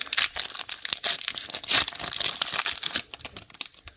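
A Pokémon Shrouded Fable card pack is torn open and its foil wrapper crinkled, giving close, loud bursts of ripping and crackling that come in uneven clusters before easing off at the end.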